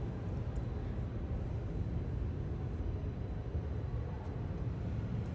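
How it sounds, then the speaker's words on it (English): An EVA Air Boeing 777-300ER jet takes off from runway 20 left, its engines giving a steady, broad, distant roar that holds evenly throughout. "here is a takeoff of a EVA Air 777-300ER beginning its flight to Taipei"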